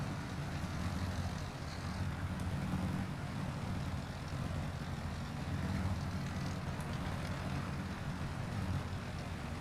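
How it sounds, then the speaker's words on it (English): In the Steel Aces video game, an aircraft engine drones continuously, a steady low rumble holding at even loudness for nearly ten seconds with no break. "Engine sounds still playing."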